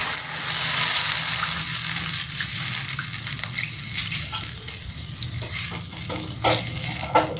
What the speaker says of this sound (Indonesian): Lalu tambahkan air. Aku pakai 100 ml air.